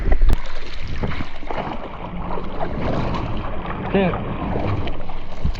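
A stand-up paddle board stroked along on calm water in a northeasterly breeze, with soft splashing paddle strokes under steady wind rumble on the microphone and a brief spoken word.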